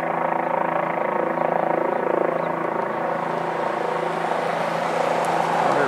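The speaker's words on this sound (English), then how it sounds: "Maybe that's a news camera or news helicopter." A news helicopter hovering near a house, its steady droning rotor and engine hum holding constant and fairly loud without breaks, with no voices over it.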